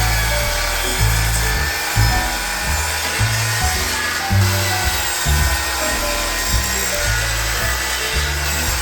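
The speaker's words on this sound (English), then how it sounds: "Replace it with a chop saw." A chop saw cuts through wood in a workshop, with a loud, grinding buzz that rises and falls in repeated strokes over a steady mechanical hum.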